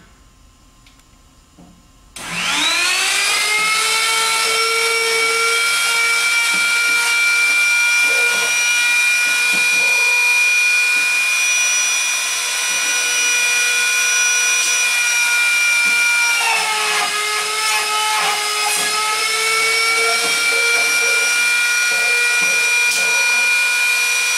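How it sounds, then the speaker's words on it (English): A KVAL 920C strike router cutting a pocket in an interior door jamb starts up after a brief quiet moment, then whines loudly and steadily at close range. "then hit clamp, and turn your router on"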